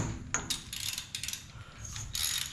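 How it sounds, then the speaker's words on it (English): A ratchet wrench removes a bolt from the alternator bracket on a 1965 Pontiac GTO, giving quick bursts of close, crisp ratcheting clicks with brief pauses between strokes. "now I have to remove this bolt, and that bolt"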